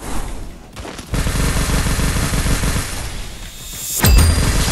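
Dense gunfire from a Vietnamese-language ranked shooter match plays loud and close, with a sharp louder burst near the end, no voices over it.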